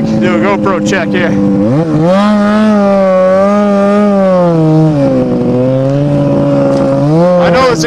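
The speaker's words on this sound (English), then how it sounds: "I know this exhaust probably sounds pretty terrible" A Ski-Doo MXZ 700 snowmobile engine runs loudly and steadily throughout, its rough exhaust note rising and falling as the throttle shifts.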